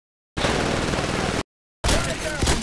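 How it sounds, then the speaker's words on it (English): Shotgun fire in the video game Titanfall: two loud, dense bursts of blasting, one lasting about a second and then a second burst after a short silence, with no talk over them. "Shotgun."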